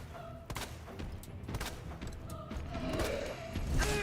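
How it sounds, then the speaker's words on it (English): Pistol shots in Resident Evil 2 (2019): several sharp gunshots spaced irregularly, mixed with mechanical clacks, thuds and creaks of the game's action, moderately loud with a rising rumble toward the end. "trying to shoot him with the pistol"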